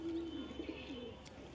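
A single pigeon held in a cage gives a short, low coo up close, then softer murmuring in a brief, quiet moment.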